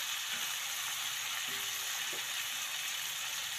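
Flour-coated chicken frying in hot oil: a steady, even hiss of bubbling oil, close and constant, with a couple of faint soft knocks underneath and no voices.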